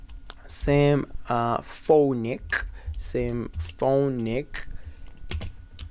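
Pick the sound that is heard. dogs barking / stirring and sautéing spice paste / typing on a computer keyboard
typing on a computer keyboard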